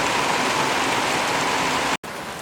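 Heavy rain pours down outdoors near a campfire in a steady, dense hiss, loud and close throughout, with one brief cut near the end and no talk.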